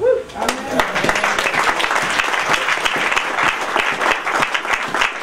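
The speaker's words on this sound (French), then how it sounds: "que cette personne s'acclame soi-même" A church congregation bursts into sustained, dense applause after a brief spoken voice at the start, the clapping close and steady for several seconds.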